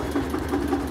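A tractor engine running steady and close, a low rumbling idle with a faint rhythmic pulse over a brief moment.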